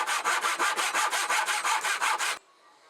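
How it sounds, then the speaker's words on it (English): A hand floorboard saw cuts through the corner of a wooden kitchen table in about a dozen quick, even rasping strokes that stop abruptly, close and loud. "So I decided then it was much easier to use my floorboard saw"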